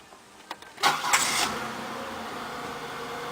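A 1998 Oldsmobile LSS with 142,608 km on it starts up: a few clicks, a short cranking burst, then the engine catches and settles into a steady idle close by.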